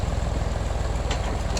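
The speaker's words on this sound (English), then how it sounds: "You listen to the engine and you can tell whether you're too low." An engine running under load as a farm implement works rough, rocky ground: a steady low rumble with a throbbing pulse, continuous and fairly close, with a couple of brief higher scrapes near the end.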